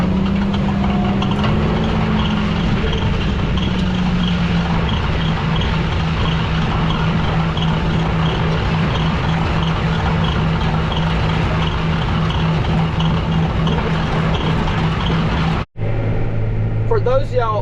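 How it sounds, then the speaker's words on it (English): A heavy tractor works across a soft field, smoothing the seed bed with a Lemken implement after deep ruts; a steady, loud low engine drone runs continuously, then cuts briefly and resumes with a deeper idle near the end. "So we lightened the tractor up, and now we're smoothing the field up."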